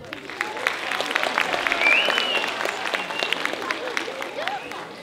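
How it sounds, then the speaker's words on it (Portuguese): An audience claps steadily at a school exhibition opening in São Paulo, a moderately loud, continuous patter of many hands with a few louder individual claps, and a whistle or voice briefly rising over it. "Eu adoro muito palmas."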